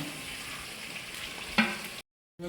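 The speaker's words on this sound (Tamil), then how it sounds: "தக்காளியை நல்லா வதங்கி எண்ணெயில் புரிஞ்சு வர அதுக்கப்புறம் தான் மசாலா சேர்க்குறோம்" Tomatoes sauté in hot oil for a chicken oil roast, making a steady close sizzle with a sharp utensil clink partway through before the sound cuts off abruptly.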